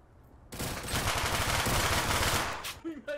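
Rapid automatic gunfire in the Garry's Mod video game erupts after a brief quiet and rattles loudly for about two seconds, followed by short voice sounds at the end.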